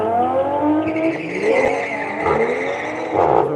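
Drag race launch pitting a BMW M3 against an HP Tuners Toyota Supra, loud engines roaring and revving close by with tire squeal, no talk.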